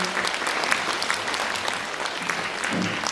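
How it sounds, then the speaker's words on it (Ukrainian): Audience applause at a school stage event in Lviv, steady dense clapping from a hall crowd welcoming a young man back from the ATO zone, continuous and fairly loud throughout. "Плескаємо."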